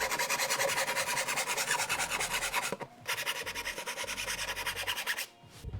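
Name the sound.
hand file filing pillar wrap edge down to line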